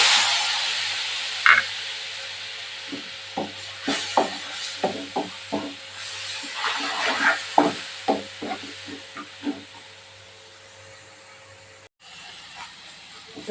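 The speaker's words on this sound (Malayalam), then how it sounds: "ഇതാട്ടോ കുറച്ച് പുളിവെള്ളം ഒഴിച്ചു" Fish masala with tamarind water bubbles in a pan, a constant hiss punctuated by a run of small popping blips from the simmering sauce.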